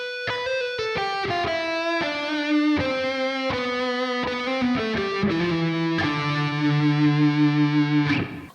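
An electric guitar with effects plays a quick melodic run of single notes in D Dorian mode, then settles into sustained, wavering held notes before cutting off.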